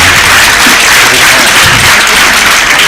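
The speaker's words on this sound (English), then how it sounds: "And also clap for our team, the purpose side of College Maranatha. Clap for them." A school debate audience claps for the College Maranatha team, a loud, dense wash of steady applause that fills the whole stretch without a break.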